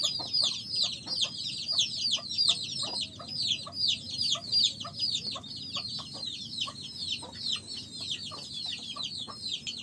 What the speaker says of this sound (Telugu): ఇవి ప్యూర్ నాటుకోళ్ళు